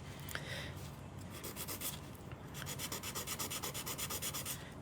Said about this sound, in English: So I'm filing to get that dead straight line out of my infinity again